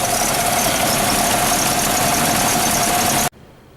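A 1974 Toyota Land Cruiser FJ-40 engine runs steadily and loudly at close range with a constant droning hum and a faint whine, then cuts off abruptly near the end, leaving quiet background.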